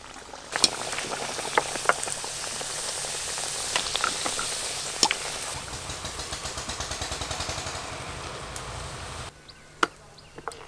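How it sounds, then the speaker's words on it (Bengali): Pea-stuffed kachoris deep-frying in hot oil, a continuous bubbling hiss with scattered sharp clicks and knocks nearby; a brief quieter stretch comes near the end, with no voices. "এদিকে তেল গরম হয়ে গেছে, আমি এবার কচুরিগুলো ভেজে নেব"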